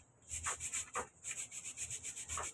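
Toothbrush scrubbing back and forth, fast rhythmic rubbing strokes, close and quiet, with no talking.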